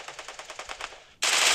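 Automatic gunfire from a Free Fire clash squad match: a quick rhythmic string of shots that fades, then a sudden loud, sustained blast of fire, close and dense, with no voice over it.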